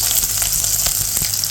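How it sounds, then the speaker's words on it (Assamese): Onions hit hot oil in a wok and sizzle loudly and steadily up close, a dense continuous frying hiss for chicken Maggi with no voices over it. "তেল গৰম হৈ গৈছে, এতিয়া কেৰাহীত মই পিঁয়াজখিনি দিওঁ"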